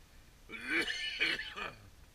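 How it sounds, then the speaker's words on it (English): A few harsh throat-clearing coughs and retching sounds in three bursts, close and fairly loud, with no talking. "you like to listen to me cough and gag and spew at first thing in the morning"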